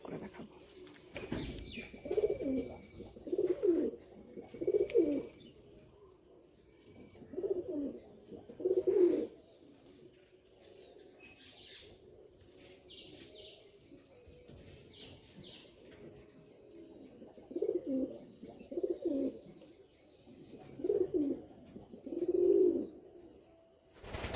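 Pet pigeons cooing in a home loft, soft throaty coos arriving in short clustered bursts with quiet pauses between them, close and gentle.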